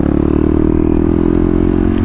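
A Kawasaki KLX250 motorcycle with a stage 1 setup cruises on a highway, its steady engine drone loud and close for a couple of seconds, layered with wind rush and no talk.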